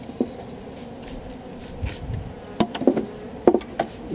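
Honeybees from a newly installed package buzzing close by, a steady drone with scattered taps and knocks, no voices.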